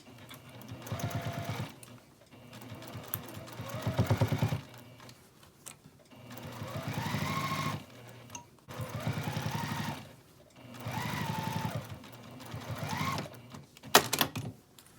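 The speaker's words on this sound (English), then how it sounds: "we'll just sew that with a 1/4 inch seam allowance" Sewing machine stitching a quarter-inch seam on a quilted Christmas stocking in four close, rapid bursts of mechanical whirring and ticking, separated by short pauses, with a sharp click near the end.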